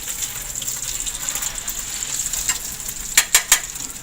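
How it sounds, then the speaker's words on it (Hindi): Chicken shami kababs fry in a pan with a steady, close hiss and crackle of oil, then three sharp spattering pops near the end. "ये देखें, फ्राई होते जा रहे हैं शामी हमारे।"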